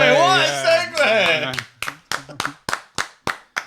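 A person talks briefly, then claps their hands about eight times: sharp, close, separate claps at an uneven pace, with short silences between them.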